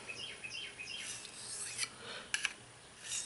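A knife blade with a woodsman grind rasps in short strokes across a narrow sharpening stone, quiet and close, with a few brighter scrapes and no voices.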